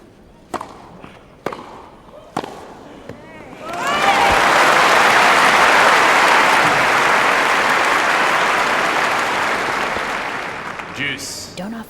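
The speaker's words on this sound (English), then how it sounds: "That's got the crowd buzzing." A Wimbledon 2013 tennis crowd bursts into loud, sustained applause and excited buzzing after a foot fault is called, swelling suddenly after a few sharp hits and chatter, then fading gradually toward the end.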